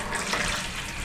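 Water runs steadily from a motorhome tap for about a second, a continuous close, loud hiss and splash with no talking.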